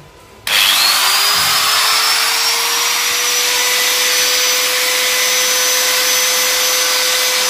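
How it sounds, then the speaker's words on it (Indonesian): An angle grinder powered by a 1000 W portable power station spins up with a sharp onset and rising whine, then runs steadily at full speed with a loud, continuous high-pitched motor drone, unloaded and alone. "kita nyalakan gerindanya"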